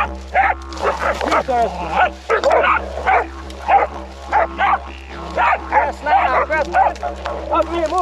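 Dogs at a camp in Cape York bark and yip repeatedly in short bursts close by, mixed with someone talking throughout.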